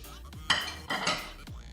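Chocolate being stirred into a cup of liquid cream in a pot on the stove, with clinking, scraping strokes of a utensil against the pan in a few short bursts, close and fairly quiet, with no talking.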